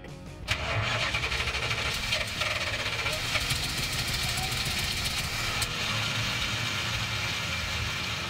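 A Chrysler 440 V8 in a Pace Arrow motorhome catches and settles into a loud, steady run close by, with a rough, lumpy rumble throughout and voices talking over it.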